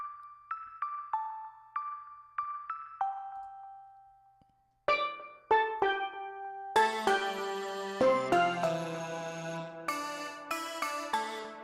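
Bright synthesized bell tones from a VST plugin ring out in a melodic sequence, sparse at first, then layered into a dense, shimmering chord pattern with long sustain.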